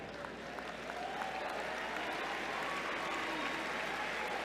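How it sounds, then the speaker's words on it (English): A commencement audience claps in a large hall, a dense, even wash of applause that holds steady throughout at a moderate distance. "Are you clapping for me to be done, or because you want to hear just about 3 more minutes?"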